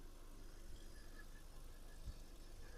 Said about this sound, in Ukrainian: Мотор працює правильно, тихо, рівно.